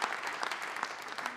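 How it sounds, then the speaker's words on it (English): Audience applause at the Radio Humber Hall of Fame 2017 ceremony, a steady, dense wash of many hands clapping from a crowd filling the hall, sustained throughout without speech. "you guys can applaud right now"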